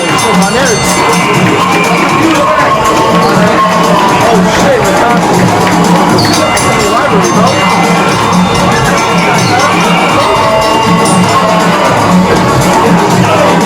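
Wrestling crowd at an MLW event in New York City, a dense roar of cheering, whoops and shouting that stays loud and continuous, with voices mixed into the din.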